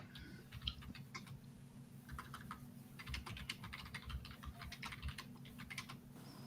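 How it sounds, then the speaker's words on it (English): Rapid keyboard typing, steady bursts of key clicks over a low hum, fairly quiet and continuous with brief pauses. "I was hearing someone typing loud"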